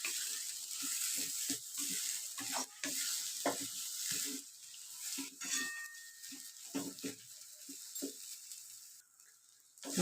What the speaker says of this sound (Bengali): কষিয়ে নেব। বেশিক্ষণ না, 2 থেকে 3 মিনিট কষিয়ে নিলেই হবে।